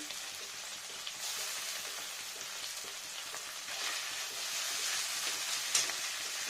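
Ginger, onion and garlic fry in a pan for a fish curry, giving a steady, faint crackling sizzle like light rain, with a few small clicks and no talk.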